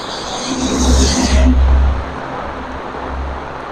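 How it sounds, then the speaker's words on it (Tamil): A vehicle passes along a flooded road during heavy rain, a loud low rumble and water spray swelling and fading over rain hiss, with no voices. "ஒரு வாகனம் ஒன்று வருது"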